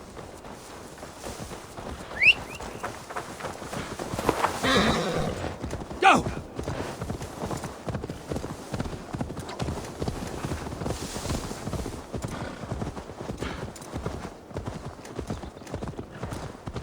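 Hooves clip-clop in a steady rhythm throughout in the video game Assassin's Creed Valhalla, with a horse whinnying partway through and a short shout near the start.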